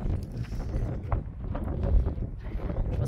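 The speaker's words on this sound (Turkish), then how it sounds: "Diyor ne biçim rüzgar esiyor diyor." Strong wind buffets the microphone at a house construction site in a steady low rumble with gusty swells, loud and continuous throughout, with a faint voice underneath.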